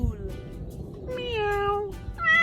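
A cat gives a few drawn-out, rising meows close up, one after another, with a little background noise between them.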